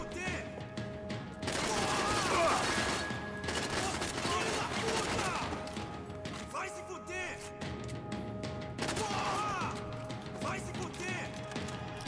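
Rapid bursts of video game gunfire crackle in clustered volleys with short pauses between them, mixed with mechanical clatter, while players chatter and laugh over the shooting.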